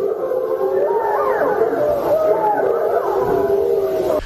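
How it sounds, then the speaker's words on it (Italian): Apennine grey wolves howling at a May supermoon, several long, wavering, overlapping howls rising and falling together, loud and sustained, heard without talk. "I versi che sentite sono il canto dei lupi dell'Appennino che ululano alla superluna di maggio"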